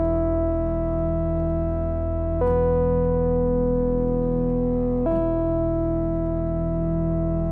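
A single sustained instrument tone plays the tonic of a major scale, a steady harmonic-rich note with two faint re-attacks, held evenly and alone with no talking.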